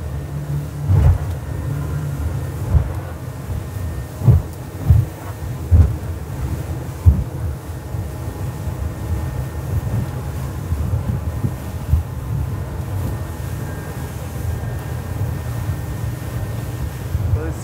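An Axopar 37 Sun-Top motorboat with a Brabus performance package carves a turn at over 30 knots in choppy water, giving a steady low engine and hull roar with wind buffeting and irregular thumps as it slaps the waves, no talking.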